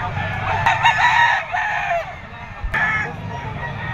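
A two-year-old sweater round head bloodline gamecock, 4.5 in weight, crows loudly and close by in two long, strained calls, the second starting after a brief pause, over a low background rumble.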